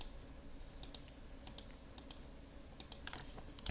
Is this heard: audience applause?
no